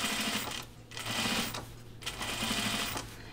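A sewing machine topstitches denim for a pair of Ginger jeans, running in three steady motor bursts with short pauses between, close and fairly loud with a rapid needle chatter.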